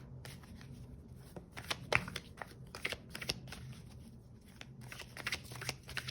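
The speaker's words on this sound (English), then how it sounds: "while I shuffle these cards" Tarot cards are shuffled by hand, with soft riffling and flicking bursts repeating irregularly over a quiet background.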